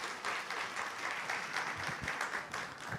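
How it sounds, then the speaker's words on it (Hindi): An audience at a spiritual gathering claps together in a steady, dense burst of applause that fills the room for a few seconds. "दीदी के लिए भाई तालियां बजाओ जरा अच्छी तरह से।"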